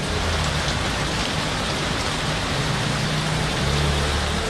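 Heavy monsoon downpour pours over Rawalpindi, Pakistan, a dense, unbroken roar of rain close by, loud and constant throughout with no voices.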